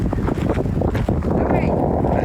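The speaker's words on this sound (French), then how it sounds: "Je suis sûr que vous entendez juste le vent." Gusty wind buffets a microphone outdoors during a retirees' hiking and cycling outing near Calgary, a steady low rumble that swells and dips throughout, with faint voices now and then beneath it.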